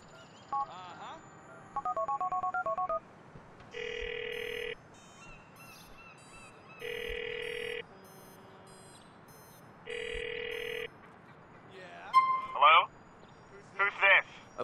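A phone is dialed and rings in Grand Theft Auto IV: a run of keypad tones, then three evenly spaced ring bursts of steady electronic tone, followed by short sharp chirps near the end.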